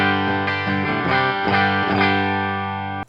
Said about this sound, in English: And this is just the DI guitar.